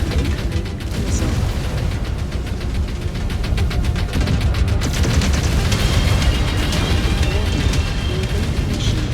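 Missile impacts and explosions from mech combat in MechWarrior 5: Clans, a dense, continuous rumbling barrage of booms and crackling blasts, loud and sustained, with faint voice chatter underneath.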